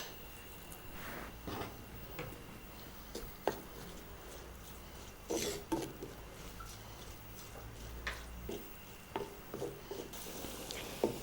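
Onions and curry leaves fry quietly in a clay pot, a faint, low sizzle broken by occasional scrapes and clinks of stirring.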